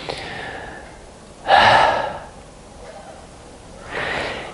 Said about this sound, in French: Ça, c'est un souffle du dormeur très artificiel